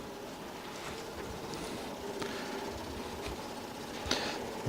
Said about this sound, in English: Boats are coming by.